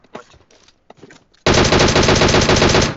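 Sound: gunfire in video game PUBG Mobile

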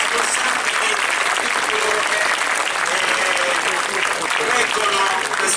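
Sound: audience applause for the flag-wavers group

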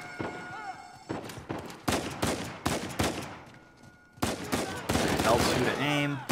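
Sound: gunfire in the video game Uncharted 4

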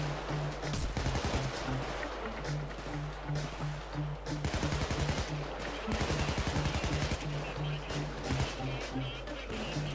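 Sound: gunfire from police in Payday 2 video game

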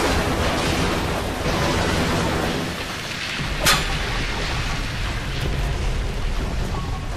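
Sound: rushing water of a water slide in BioShock video game

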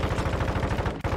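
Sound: gunfire in Call of Duty Warzone 2 video game

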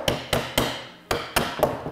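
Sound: hammer tapping

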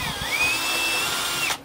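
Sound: power drill slowly drilling through composite with a large bit

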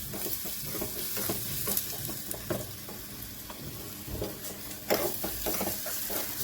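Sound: garlic ginger paste sizzling in tadka tempering

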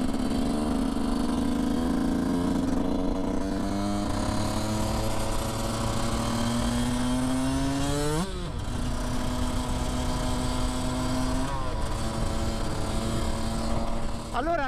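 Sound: Yamaha YZ 125cc motorcycle engine

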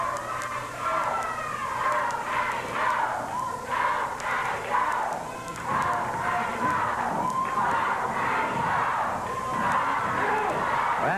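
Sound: crowd chanting at a wrestling match

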